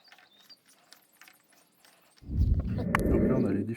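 Bolts on the transmission pan of a Cadillac Seville STS with a 4T80-E gearbox being tightened: a quiet, sparse start, then a loud, dense burst of close mechanical ratcheting and clatter for the last second and a half.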